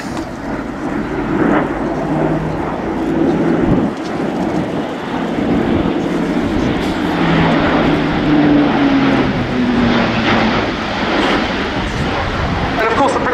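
A loud, steady Airbus A400M military transport propeller aircraft drone rumbles overhead throughout at an air show, with low tonal engine hum and people talking underneath.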